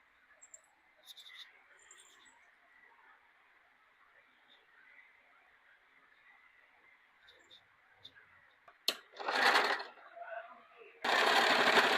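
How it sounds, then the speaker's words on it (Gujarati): A sewing machine stitching starts in short bursts and then runs with a loud, steady whir near the end, after a long, quiet stretch of faint background hum. "હવે આને સિલાઈ કરી નાખશું આપણે."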